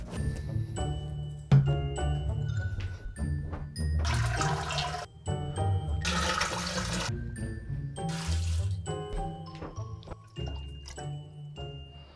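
Water pours steadily into a glass vessel for a carp-fishing bait demonstration, a continuous splashing, gurgling stream with bubbly surges, close and fairly quiet throughout with no talking.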